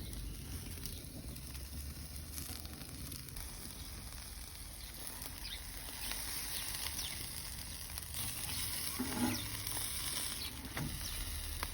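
Food bubbling and sizzling on a wood-fired grill, a steady crackling hiss that holds throughout at moderate level and swells slightly in the second half, with no voices over it.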